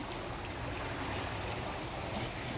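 The Ganges in flood at the Haridwar ghats after heavy mountain rain, a dense, continuous rushing roar of fast-flowing water, steady and close, with no voices.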